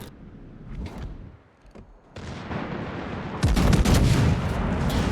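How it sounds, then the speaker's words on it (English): Warship secondary guns fire in a naval video game: rapid overlapping gun reports and booms, sparse at first, then a dense, loud volley of continuous firing from about the midpoint on. "But here we go, secondaries are in motion."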